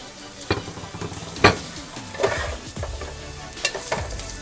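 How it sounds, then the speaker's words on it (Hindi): Ginger, garlic, curry leaves and slit green chillies sauté in hot oil for chicken 65, with a continuous sizzle broken by sharp scraping and clinking strokes of a spoon stirring the pan, close and without voices. "थोड़ा सा सौते करेंगे।"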